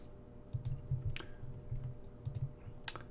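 Keys on a graphing calculator are pressed in a few soft, scattered clicks over a low background hum, faint and close.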